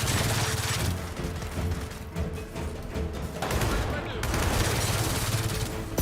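Rapid bursts of automatic gunfire in the shooter game Gears of War 4, loud and sustained with brief pauses between volleys, mechanical clatter in between.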